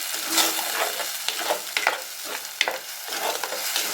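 Ground tomato paste tipped into onions sautéing in a pan for a Tamil karapodi fish curry, with a steady close sizzle and a run of scraping spatula strokes stirring it through, no voices.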